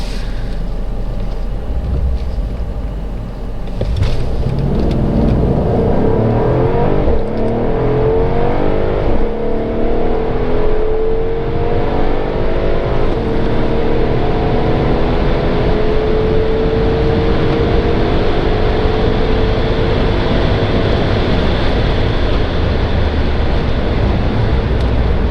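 A Mercedes S63 AMG 4matic W222 with 585 hp accelerates hard, its engine note rising loudly and steadily with gear shifts breaking the climb, heard from inside over a constant roar.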